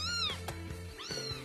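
Cat meows twice, close and clear, a pair of drawn-out, rising-falling cries with faint background murmur beneath.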